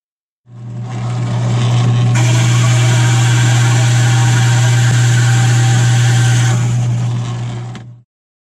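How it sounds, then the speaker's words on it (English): A saw cuts a wooden toy wheel free from a board, a loud, steady motor drone with a rough cutting rasp that starts, holds for about seven seconds, then winds down and stops. "lining up the saw, and cutting out the rest of the wheel"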